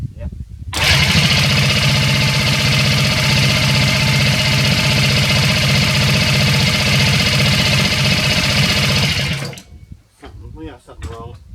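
A rebuilt junior dragster engine runs loud and steady for about nine seconds without catching, a continuous mechanical drone that cuts off abruptly, followed by brief talk.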